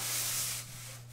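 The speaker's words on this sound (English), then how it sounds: "the eraser." Rubber eraser rubbing across paper on a graphite and powdered charcoal drawing, a close, steady scratchy friction that eases off toward the end, with a low background hum underneath.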